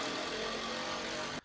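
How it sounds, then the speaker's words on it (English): A power drill screws extra drywall support pieces into place, giving one loud, steady whir of about a second and a half that stops abruptly. "Here I am screwing in those extra support pieces."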